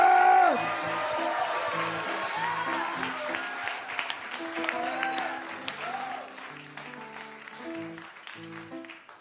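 A church congregation bursts into loud, dense applause as a clap offering, a continuous crowd clapping that fills the room, with voices and cheering mixed in throughout.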